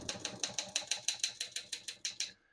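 Keys on a 1967 Olivetti Underwood 21 portable typewriter strike in a steady run of about fifteen crisp, evenly spaced clacks, close and clear, ending abruptly.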